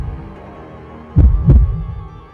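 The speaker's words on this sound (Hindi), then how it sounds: "आर्यन का दिल जोर जोर से धड़कने लगा।" A heartbeat sound effect of a heart pounding hard: two deep, heavy thumps in quick succession over a low hum, booming and close.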